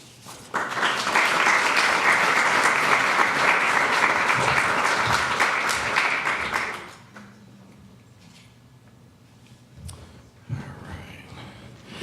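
An audience at an awards ceremony gives graduates a loud, sustained round of applause that fades out after several seconds, leaving a quiet room with a few faint knocks and murmurs.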